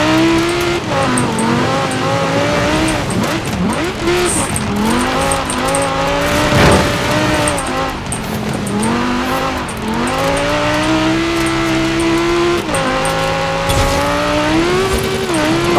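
An Audi R8 V10 supercar in Forza Horizon 4 drives on, its engine droning loud and steady while the revs rise and fall, with tires squealing through turns.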